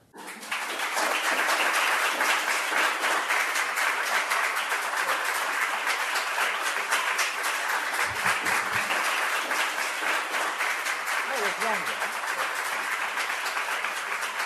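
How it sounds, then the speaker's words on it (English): Loud, sustained applause from a large audience after a public talk, dense clapping that continues evenly for the whole stretch without talk. "That was longer than the applause of before the speech"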